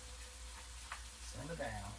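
Homemade fries sizzle faintly in hot oil, a soft steady hiss with a brief louder stir or voice-like murmur near the end.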